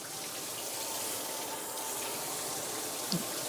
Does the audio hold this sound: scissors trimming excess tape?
no